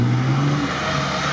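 Lada Niva off-road car at an off-road competition, its engine droning loudly and steadily with a low rumble, heard close and without speech.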